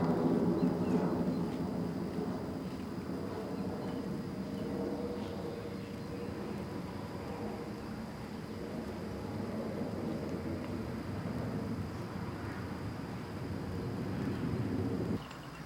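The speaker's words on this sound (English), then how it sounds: "I know we're going to have a little storm for us." Steady broadband rumble of a thunderstorm outdoors, with a deep continuous roar and faint rain hiss holding at an even level throughout, no distinct thunder claps standing out.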